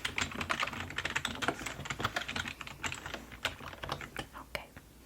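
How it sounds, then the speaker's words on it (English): Quick, soft keystrokes tap on a computer keyboard at a close, quiet level in a calm library-desk setting. The typing comes in uneven bursts with short pauses and no speech over it. "So let me go ahead and type that in."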